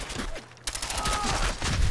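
Video game gunfire crackles in a dense, rapid burst of shots filling most of a brief moment, loud and close, with a short lull before the firing resumes.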